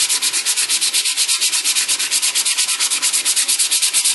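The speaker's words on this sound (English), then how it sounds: "So we're going to go ahead now and sand these down a little bit." Steady back-and-forth sanding on filler spread over cracks in a car dashboard, a rapid even rhythm of rasping strokes, close and fairly loud throughout with no talking.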